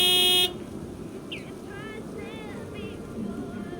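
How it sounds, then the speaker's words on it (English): A white delivery truck in the holiday game Lake sounds a loud, steady horn blast for about half a second, then stops, leaving a low engine-like rumble and a few faint chirpy tones behind. "a honking great horn"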